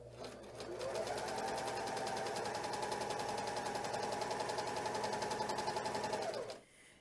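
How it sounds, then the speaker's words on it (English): A Janome Magnolia 7034D serger runs a rolled hem on chiffon with a fast, even mechanical chatter that holds steady for several seconds, then stops. "and then slowly start serging."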